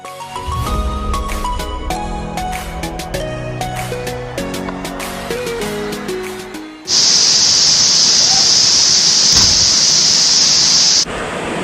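Alimbuyao waterfall in Bolinao rushes as a loud, steady white-noise roar that cuts in abruptly after a stretch of music and holds until near the end.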